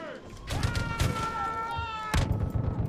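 Machine gun fire from an LMG nest in the Far Cry 5 video game, rapid repeated gunshot bursts, close and loud, interleaved with a player's excited talk and game music tones.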